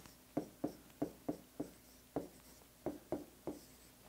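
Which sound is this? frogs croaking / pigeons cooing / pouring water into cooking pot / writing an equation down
writing an equation down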